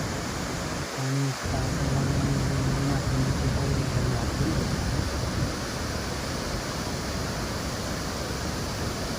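Swollen river rushing in a loud, steady roar of water, a broad continuous wash near at hand, with a brief low tonal hum early on and no clear talk.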